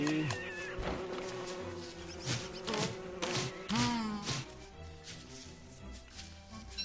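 A bee buzzes in a PS4 video game, a wavering drone with shifting pitch under game music and effects, moderately loud and continuous.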